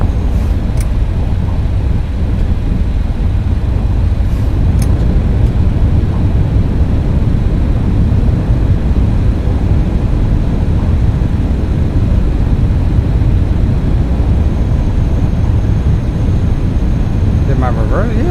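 Simulated MD-11 thrust reversers roar after touchdown at Philadelphia in X-Plane 12, a loud, steady broadband rumble that holds without a break for the whole stretch.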